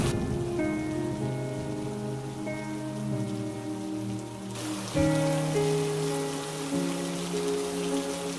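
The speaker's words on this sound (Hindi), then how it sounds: "दिनों बाद गांव में भयंकर बारिश शुरू हो गई।" Heavy rain pours down over a village, a steady broadband hiss that runs unbroken for the whole stretch, with sustained tonal layers beneath it and a brief surge in intensity about halfway through.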